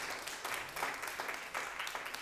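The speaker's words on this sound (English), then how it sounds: "So shall we start by giving her a round of applause for that wonderful title?" An audience claps for Hawa, Miss Sierra Leone, at a Mothers and Women's Day event. The applause is faint and steady, a soft continuous patter from the room that lasts about two seconds.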